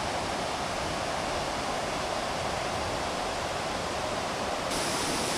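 Rushing water at the Izbucul Ponor karst spring in Padiș, a dense steady roar of flowing water close by, continuous and loud with no voices.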